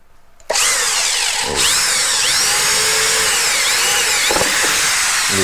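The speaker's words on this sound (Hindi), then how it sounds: "इस मार्किंग पे ना हम लोग ड्रिल करेंगे" Electric drill boring holes in a wall to fit a new switch board, a loud close whine starting abruptly after a brief pause and running steadily with slight pitch dips as the bit bites.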